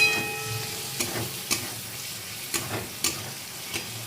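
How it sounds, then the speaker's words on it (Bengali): A fried egg is stirred through a spice masala in a pan, with a soft continuous sizzle and the repeated light knocks of a spatula at irregular intervals, fairly quiet throughout. "তো আমি ভেজে রাখা ডিমটা আমি দিয়ে দেবো এটার মধ্যে, একটু কষাবো ডিমটা দিয়ে।"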